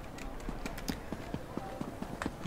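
A horse gallops in a fantasy role-playing game, a quick run of muffled hoofbeats at a steady, even rhythm beneath ambient game noise, with no voices.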